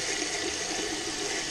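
Running water splashes steadily and close up as a spray paint gun's jug is rinsed out. The rush is brief and continuous, with no break.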